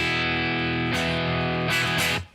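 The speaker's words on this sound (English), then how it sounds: "we're going to go after some Marshall tones here today to start with" Heavily distorted electric guitar played through a Marshall amp simulator plugin, sustained crunchy chords ringing loud and close, with a couple of fresh strums near the end before the sound cuts off abruptly.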